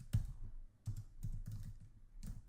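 Typing on a computer keyboard: a few short bursts of soft, close key clicks separated by brief pauses, quiet and alone.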